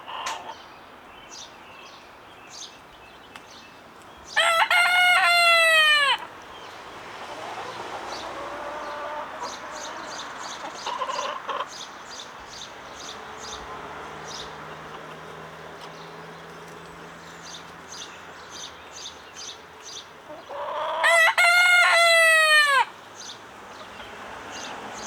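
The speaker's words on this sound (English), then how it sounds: "My little rooster is crowing." A naked neck satin rooster crows twice, about fifteen seconds apart, each crow loud and close, with quieter backyard chicken clucking and ambient farm noise in between.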